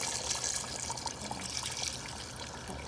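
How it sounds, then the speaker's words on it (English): Water pours steadily into a pot of Khmer lemongrass duck soup, a continuous splashing trickle that stays fairly faint and close, with no voices. "and then you're gonna add water."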